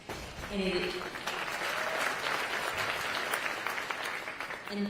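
A crowd claps steadily for several seconds at a speech, sustained applause at moderate distance with a few faint voices underneath.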